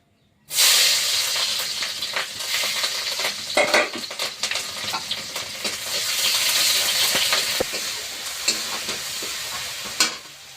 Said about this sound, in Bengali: তেলটাও গরম হয়ে গিয়েছে আমি তেলে পেঁয়াজ কাঁচা লঙ্কা দিয়ে দেবো